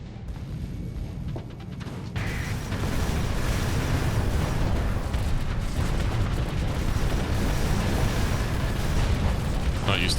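Broadside cannon fire from ships in a video game, a heavy sustained roar of overlapping blasts that swells after a quieter opening and stays loud throughout, with speech mixed in.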